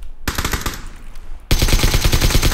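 Rapid automatic gunfire in the video game PUBG, two loud close bursts of rattling shots separated by a short pause, the second burst continuing to the end.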